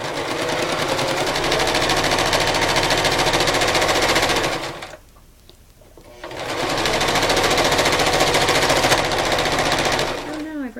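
A sewing machine stitches the grid lines of a fabric tic tac toe game in fast, continuous, loud runs, stopping for about a second midway before the rapid stitching resumes.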